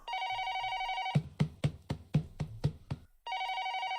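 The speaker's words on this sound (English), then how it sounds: "first time hearing the telephone ring in a while" A telephone rings in the Hime to Otome visual novel game: steady trilling electronic ring tones, then a run of sharp knocking or chopping hits, then the ring starts again, loud and close with nothing else behind it.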